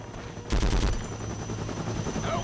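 Pistol fire at a firing range in the video game Conflict: Vietnam: a brief, loud burst of rapid shots followed by a fading, reverberant tail.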